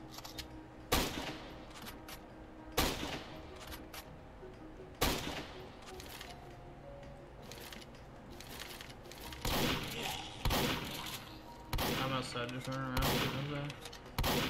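Sharp, loud sniper rifle shots spaced a few seconds apart, then clustered in quicker succession, in a ghost-themed video game, with a faint game backdrop between cracks.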